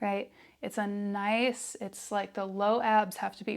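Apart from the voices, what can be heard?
No everyday noise stands out behind the speech.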